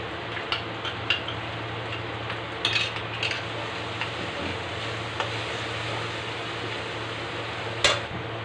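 Masala sautés in a pan for a pumpkin and potato kofta curry, with a steady low sizzle under intermittent scraping and clinks of a spoon stirring against the metal, one sharper knock near the end.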